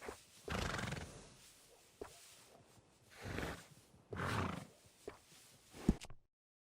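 Workhorse in Red Dead Redemption 2 gives several loud, rough neighs and snorts in close succession, with a few brief hoof knocks between the bursts.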